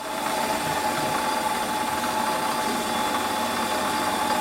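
Steady whine of a running lathe cutting silver steel, with a constant tonal hum and rough cutting noise, close and continuous without pauses.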